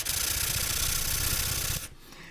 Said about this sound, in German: jetzt drehe ich es um und schleife das da auf der Fläche auch